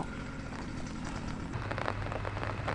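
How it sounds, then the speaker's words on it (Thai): Steady rain falls on a rice field, a dense even hiss of drops that builds slightly toward the end, with no talking. "ตอนนี้ฝนยังตกอยู่เลยนะคะ"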